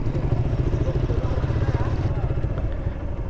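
A motorcycle engine runs steadily and close by on a broken, sandy rural road, its low rumble continuous throughout with a faint clatter over it.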